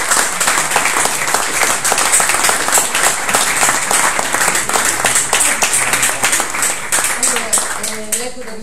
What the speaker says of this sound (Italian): vorrei fare un applauso a Valeria Poggi per la buona.